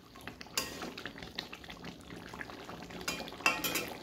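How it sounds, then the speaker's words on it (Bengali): Chicken sautéing in a pot, with a soft steady sizzle and repeated scrapes and clinks of a spoon stirring against the metal, close by and with no talking. "এই দেখো চিকেনটা কষানো চলছে"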